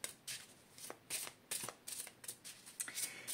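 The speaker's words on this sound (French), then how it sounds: "Je vais donc tirer 5 cartes." Oracle cards are shuffled by hand in quick, papery riffles and slides. About ten soft, close bursts come in a steady rhythm against near silence.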